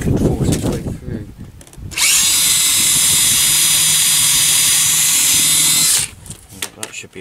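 A power drill enlarges a hole in a Land Rover mudguard, with a loud, steady high-pitched whine lasting about four seconds, bracketed by someone talking and handling noises before and after.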